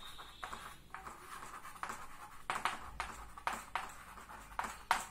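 Pen writing by hand on paper while working out a current electricity circuit problem, a quiet run of short scratchy strokes and taps at an uneven rhythm, close and alone.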